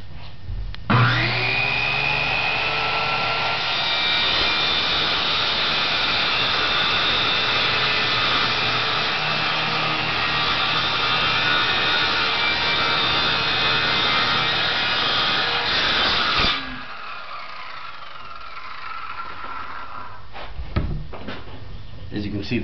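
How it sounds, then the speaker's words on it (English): A circular saw cuts through wood, spinning up with a rising whine and then biting into the board in one long, loud, continuous cut lasting about fifteen seconds before winding down, followed by a few knocks and handling sounds. "As you can see, the circular saw wins in the battle of the saws."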